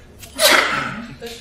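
A single sharp sneeze bursts out after a brief intake of breath, close and loud, followed by a faint trailing sound.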